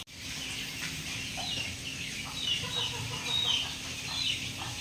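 Three-week-old chicks in a backyard peep and cluck steadily at close range, their high chirps scattered over a continuous outdoor background with no talking.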